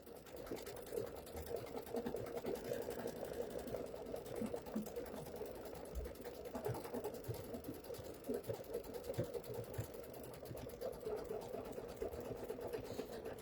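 Bernina embroidery machine stitching an in-the-hoop bunny hanger, a faint rapid steady needle chatter running continuously in the background with no break.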